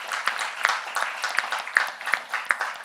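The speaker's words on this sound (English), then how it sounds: "everyone can kind of give yourselves a round of applause for this portion of the evening." Audience applause at a women's dinner gathering in Harlem, New York, a few seconds of scattered, moderately loud clapping with sharper individual claps standing out in an uneven rhythm.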